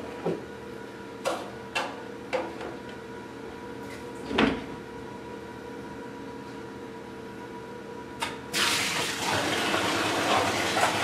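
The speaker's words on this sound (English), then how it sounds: "We'll go ahead and siphon the other side." Water rushing through a siphon hose out of a half-empty 300 gallon reef aquarium, starting as a steady broadband gush near the end after several sharp knocks and clatters.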